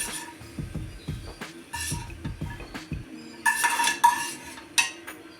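Cashews and raisins roasting in hot ghee in a pan, a utensil clattering and scraping against the metal in quick repeated strokes, then brighter clinks and a light sizzle toward the end, with no talking.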